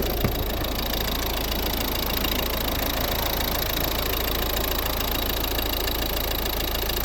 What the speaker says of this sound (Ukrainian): Ось робота двигуна.